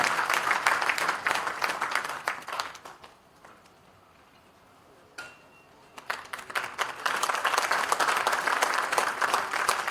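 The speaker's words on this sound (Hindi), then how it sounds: "पूरे जोश और जोरदार तालियों के साथ भाई साहब का स्वागत है" Audience applause welcoming a speaker onto the stage, loud dense clapping that fades to near silence for a couple of seconds, then swells back up and continues strongly.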